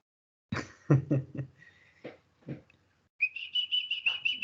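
A few scattered knocks and soft vocal sounds, then a steady, wavering whistle of repeated short tones held for about a second.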